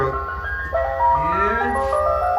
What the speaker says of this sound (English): It's the ice cream truck.